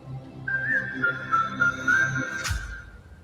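A person whistles a bright, sustained melody alone, notes held and gliding, ending with a short breathy burst.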